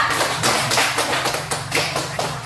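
Applause in a classroom for a student group, many hands clapping together in a steady, fairly loud patter close by, with no voices over it.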